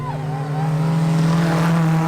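Cars running paired demonstration laps on a track, with a loud close engine drone holding a steady pitch that swells slightly as the car goes by.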